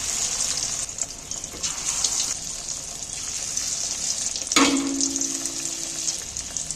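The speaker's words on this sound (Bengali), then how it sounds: "এইভাবে আমি চালিয়ে চালিয়ে সব মাছগুলোকে দিয়ে দিচ্ছি তেলের মধ্যে" Rohu fish pieces frying in hot oil in a home kitchen, a steady close sizzle that swells briefly as more pieces are slid into the pan, with no talking.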